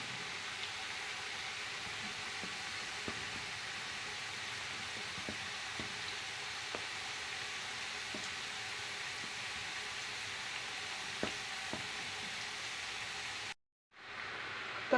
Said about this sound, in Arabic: احنا بنحمر بطاطس طبعا جنب الاكله ديت